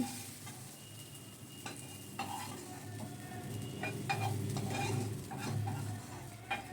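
Cauliflower florets frying in oil in a pan for a cauliflower kalia, stirred with repeated scraping strokes over a steady close sizzle, with occasional clinks of the utensil against the pan.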